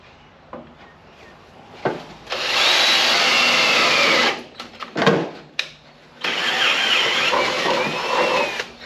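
A power drill bores a 14mm hole, starting with a 10mm bit, into the metal of an FB Holden ute: two loud, sustained drilling runs split by brief clunks and bit bites.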